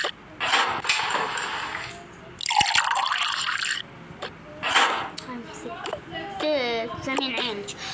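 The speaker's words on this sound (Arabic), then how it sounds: "الحين بجيب لك بصب لك فيه هذا ما خلينا نشربه عصير" Juice is poured into a cup at home, making splashing, trickling bursts of liquid while people talk over it throughout.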